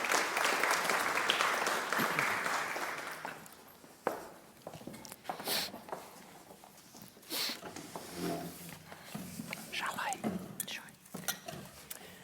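A conference audience applauds the panel, a thick burst of clapping for the first few seconds that then dies away, leaving scattered shuffles, footsteps and soft murmured voices in a quiet hall.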